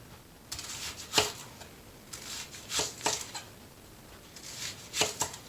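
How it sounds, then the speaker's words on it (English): A knife slices through an onion on a cutting board with a series of crisp, close chopping strokes in uneven clusters, with no talking. "that'll give you a flat side to then hold the onion onto while you slice"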